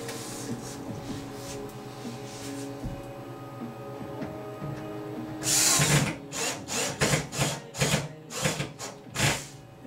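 Power drill driving screws during a build of a Revolver 50cc ARF model airplane, a steady hum followed by several short, loud whirring bursts near the microphone in a quick stop-start rhythm.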